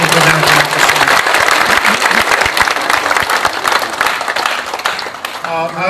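A crowd in the Hyeonchunggwan hall at Seoul National Cemetery, gathered for a memorial ceremony marking President Syngman Rhee's death, applauds board directors with loud, sharp, rapid clapping that thins toward the end as a voice comes in.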